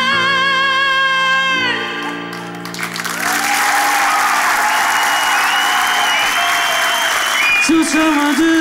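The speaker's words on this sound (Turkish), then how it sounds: "Alkışlayın kendinizi lütfen" A studio audience on a Turkish TV show bursts into loud, dense applause after sung music ends, the clapping sustained and full for several seconds while a voice rises briefly near the end.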